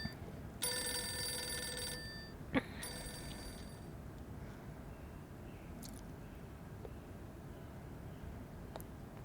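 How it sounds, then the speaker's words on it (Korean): Telephone ringing in the video game Reverse: 1999, a harmonic electronic bell ringing near and loud for just over a second, then a brief click and soft background hum with faint later taps. "방금 누구 전화였어?"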